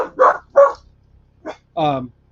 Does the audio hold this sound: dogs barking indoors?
yes